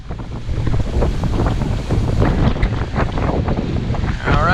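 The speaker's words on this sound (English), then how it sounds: "So you can tell it's pretty windy." Strong wind roars across the microphone on a sailing boat at sea, a loud, constant rushing gust with waves and water washing underneath throughout, winds around 17 to 20.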